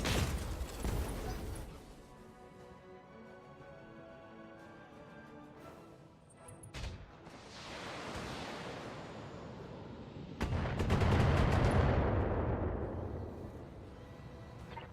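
Missile salvos and autocannon fire in the BattleTech game, Extended 3025 mod: a series of booming blasts and rushing explosive bursts with a loud impact near the end, no talk.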